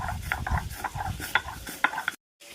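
Roasted whole spices, including fennel, white fenugreek and black mustard seeds, are ground into a paste for a green chilli pickle. Rhythmic scraping and grinding strokes come close and alone, followed by a short pause of silence near the end.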